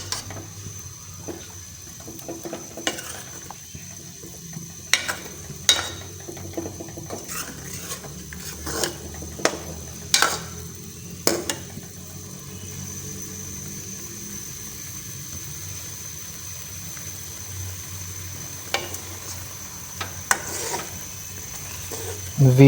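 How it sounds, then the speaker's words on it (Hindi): Spinach and chicken frying together in a pot, a low sizzle under repeated sharp clinks and scrapes of a spoon against the metal that come in bursts and then thin out, with some faint watery sounds and no talking. "अच्छी तरह मिक्स करने के बाद हम इसको पकाएंगे, अच्छे तरीके से भूनेंगे पालक को चिकन के साथ।"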